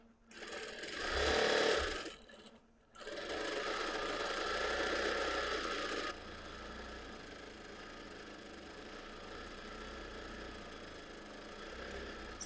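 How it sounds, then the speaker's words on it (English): A sewing machine runs steadily while free-motion quilting parallel lines on a wholecloth baby quilt with a rainbow print. A brief louder burst and a pause come first, then a long, even, close-up motor whir continues without talk. "So I'm just going to work my way down the quilting area that is exposed right now and lay in these lines"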